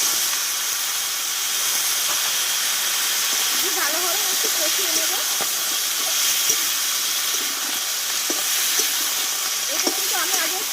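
Raw jackfruit poured into hot mustard oil seasoned with turmeric and salt gives a steady, even sizzle and hiss throughout, with a few faint clicks and a voice talking quietly over the frying.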